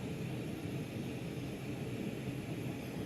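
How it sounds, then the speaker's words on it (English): A large glassblowing torch running at its bigger flame in a studio, giving a steady, loud, jet-like roar of broadband noise that holds constant throughout. "let's kick on the bigger flame for just a little bit"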